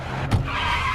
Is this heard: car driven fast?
yes